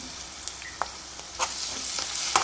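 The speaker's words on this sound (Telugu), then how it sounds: "ఈ అల్లం వెల్లుల్లి పేస్ట్ కూడా ఆయిల్లో మంచిగా మగ్గనివ్వాలి." Ginger garlic paste frying in hot oil in a pan for a Goruchikkudu (cluster bean) curry, giving a steady faint sizzle broken by a few soft stirring scrapes and clicks, with no talking.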